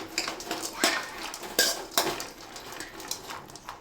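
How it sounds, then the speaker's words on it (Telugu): Raisins are stirred in a pan while frying for sugar-free dry fruit laddu, with metal utensil clinks and scrapes against the pan over a soft background hiss, several sharper knocks spread across the stir. "ఎండు ద్రాక్ష, బ్లాక్ కిస్మిస్ ఉన్న అవి వేసుకొని ఫ్రై చేసుకోండి."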